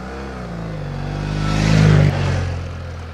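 BMW F 700 GS motorcycle engine, a steady low drone that swells to a louder peak mid-clip, cuts off sharply, then carries on at a slightly lower level.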